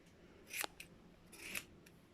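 Scissors snip close up through a Doodle dog's ear fur during a home grooming trim. Two or three crisp, quiet cuts come in short bursts against near silence.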